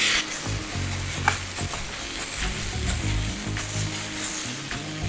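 Tomatoes sizzle and crackle steadily in a hot pan with stirring scrapes, for a Telugu-style soy chunks curry; the frying noise is close and continuous, with no talking.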